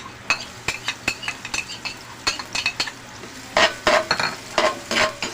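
Garlic and onion sautéing in a pan: a steady sizzle broken by frequent sharp metallic clinks and scrapes of a utensil stirring against the pan, loud and close.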